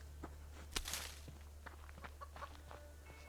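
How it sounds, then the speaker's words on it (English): A chicken clucks softly in short bursts nearby at an outdoor homestead, with scattered footsteps and faint rustling around it and no one speaking. "Yes, I hear you, chicken, but I'm not after chicken right now."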